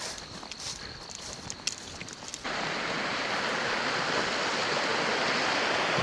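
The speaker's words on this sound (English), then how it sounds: "Hear the water." Fast current of a trout stream rushing along in autumn, a steady broadband wash that swells up loud and close after a quieter stretch with faint footsteps and rustle.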